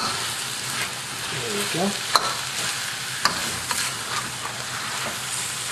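Eel pieces tossed and stirred in a hot wok to coat them, a steady sizzle of frying under scraping and a few sharp metal spatula clicks; a voice briefly speaks.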